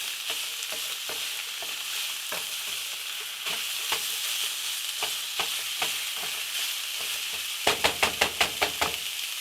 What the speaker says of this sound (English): I'm going to break this up. And cook it down.